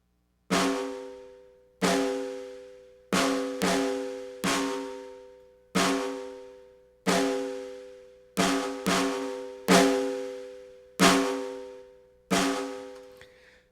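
A snare drum processed with a transient designer, its attack cut back and its ring brought forward, sounds eleven times in an uneven rhythm. Each hit blooms into a long, singing tone that decays before the next.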